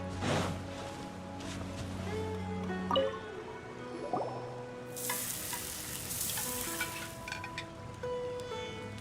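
Sweet madame and radish veggie soup cooking in an Archon Quest scene, with a steady sizzle of frying and stirring, a few drips and splashes, and soft tonal music running underneath.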